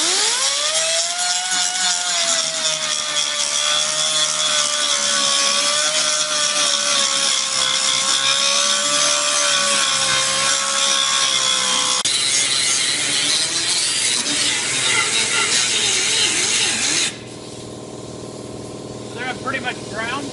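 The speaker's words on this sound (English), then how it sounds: "I stand this thing up on its end and use it just like this, so I'm just controlling the area that I'm grinding" An angle grinder wearing down a weld on a truck cab corner repair panel, a loud, steady, close high whine held for many seconds, ending in a duller stretch.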